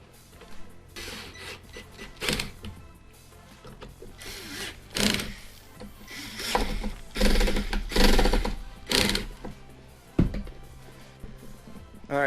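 Screws being driven into J-clips on a BMW E36 center dash filler panel, heard as a run of irregular scraping, rubbing turns and short clicks up close, with brief pauses between bursts and no talking.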